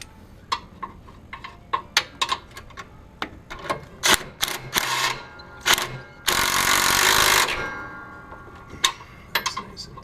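While a turf striper is fitted to a 2014 Toro Grandstand 52 Turbo Force mower, bolts are tightened with sharp metallic clicks and ratcheting ticks, plus one sustained mechanical whir of about a second, close by.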